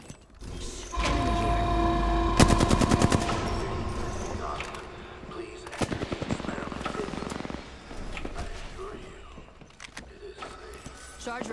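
Gunfire in the battle royale shooter Apex Legends, a short rapid burst of automatic shots early on and a second burst later, mixed with game mechanism clicks and clatter.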